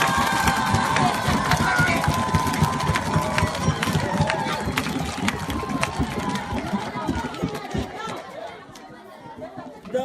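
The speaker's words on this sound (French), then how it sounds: "applaudissons encore une fois" A crowd at a community gathering in Beauregard, Cameroon claps and cheers, with loud, dense applause, chatter and shouts that ease off slightly toward the end.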